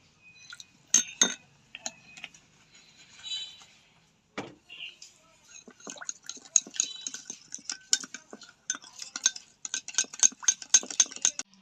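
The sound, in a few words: stirring biscuit cake batter with a spoon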